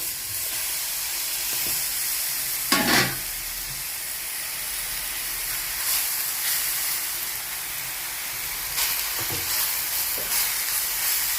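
A Kerala tea-time snack frying in ghee gives off a continuous hissing sizzle, with a brief louder splutter early on and a few faint clinks, and no voices.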